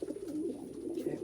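Soft, continuous cooing rolls from a flock of 2019 young racing pigeons inside their loft, several birds overlapping in a low, warbling murmur heard up close.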